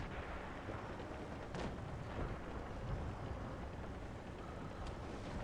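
A tank cannon fires in WOT Blitz, a muffled, low boom around the T-150 heavy tank's fight that sits inside a constant rumbling battle din, fairly quiet overall.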